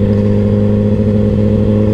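A car engine runs at a steady, loud drone for about two seconds, held high during a rev-matched downshift, with no clear rise or fall in pitch.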